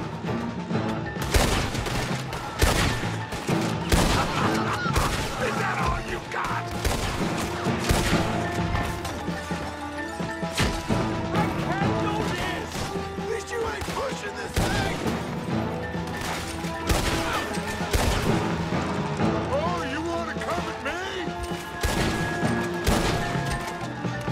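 Dual-wielded pistols in Red Dead Redemption 2: a dense, repeated volley of sharp gunshots and impacts over game music and ambience, loud and continuous throughout.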